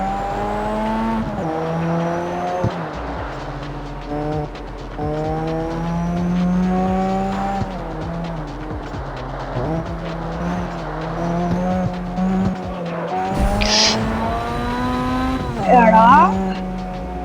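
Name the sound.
car driving fast with loud engine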